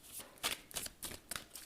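Osho Zen tarot cards being shuffled by hand, a quick series of soft riffling flutters repeating about every third of a second, close and quiet with no voice.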